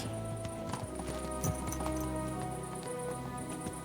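Horse hooves in the video game Kingdom Come Deliverance 2, a quiet rhythmic clip-clop of a horse moving under a steady background ambience, with no one speaking.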